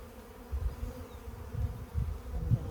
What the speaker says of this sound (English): we still have lots of bees, and the foragers are coming back